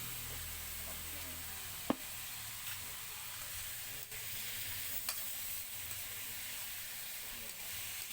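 Dry garlic fries in a pan with a steady, even sizzle and hiss throughout, close by, broken by a single sharp clink of a utensil and faint stirring scrapes.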